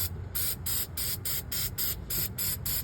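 Short spurts of AutoZone degreaser gel hiss from a spray can onto a Honda Integra engine bay during a K-swap motor mount job, about eight quick bursts in an even rhythm, close and clear with no talking.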